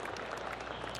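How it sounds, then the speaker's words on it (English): Gallery applause from a golf crowd in the PGA TOUR 2K25 video game, a steady wash of many hands clapping at an even level across the whole second with no talk. "golf clap"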